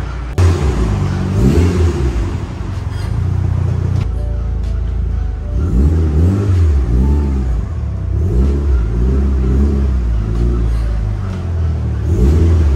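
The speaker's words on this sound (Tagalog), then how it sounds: "Atras muna natin to para makalabas yung Evolution." A Mitsubishi Lancer Evolution 8 engine rumbles close by, idling low and then revving in repeated surges as the car backs up.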